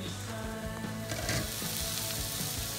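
Capsicum with a little salt cooks under a lid in a pan, giving a steady, close sizzle with soft crackles and faint pops and no voices.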